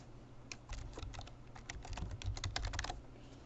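Typing on a computer keyboard while re-entering text for an After Effects project, a quick, uneven run of close, crisp key clicks over a low background hum.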